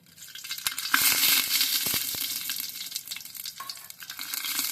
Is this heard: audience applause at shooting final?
no